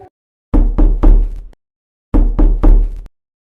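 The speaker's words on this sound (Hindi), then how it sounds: "तो अचानक दरवाजे पर जोर से चोट पड़ी।" Loud, heavy banging on a door comes in two bursts of three hard knocks, punchy and close against otherwise silent surroundings.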